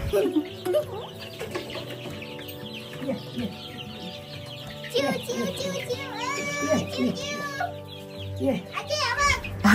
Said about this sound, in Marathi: अरे बापरे, एवढ्या कोंबड्या.